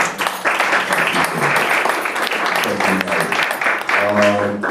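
An audience at a community action board meeting breaks into steady applause, dense clapping that fills the room at an even level throughout, with a voice briefly audible near the end.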